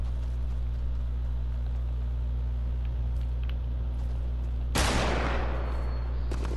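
A single loud, sharp gunshot in a squad match of a battle royale video game, bursting out over a steady low hum, followed by a fainter second shot near the end, with no talk.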